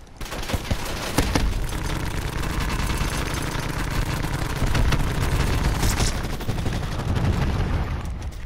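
Sustained gunfire in Call of Duty: Black Ops 4, a dense continuous barrage of shots and booms at close range, with no talk.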